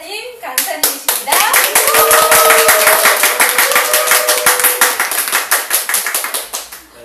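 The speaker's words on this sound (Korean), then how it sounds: "여러분 큰 박수 부탁드릴게요" Audience clapping to welcome an author and lecturer at a talk in a small library, a burst of sharp, close hand claps that swells into steady applause, then thins to scattered claps, with a voice speaking over it midway.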